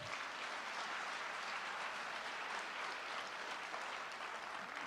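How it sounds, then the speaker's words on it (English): Applause from the audience at a high school signing ceremony for athletes receiving scholarships, a steady even wash of many hands clapping, faint and distant throughout. "let's give everybody a round of applause for that"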